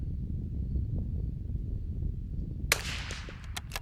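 A rifle shot cracks once during an outdoor accuracy test, a single sharp report followed by a few quieter echoing pops, set against a steady wind rumble.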